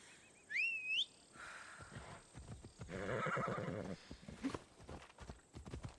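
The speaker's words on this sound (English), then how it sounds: "Let's just get the horse." A horse in Assassin's Creed Odyssey whinnies in a high, wavering neigh, followed by snorts and hoof clops with game-like whooshes and clatter around it.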